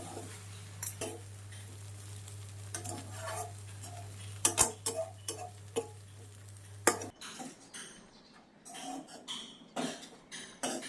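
Lemon rice with cashews, peanuts and lemon juice is mixed in a pot, with soft irregular spoon clinks and scrapes against the metal, faint and close.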